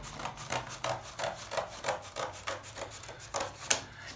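A cardboard box flap being cut off, heard as a fairly faint, rhythmic series of rasping strokes repeating roughly every third of a second.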